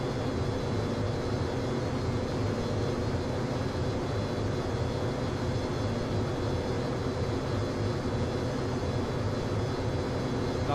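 Airliner jet engines drone steadily at climb power just after takeoff in a flight simulator game, a constant low rumbling roar with faint tonal whine, unchanging throughout.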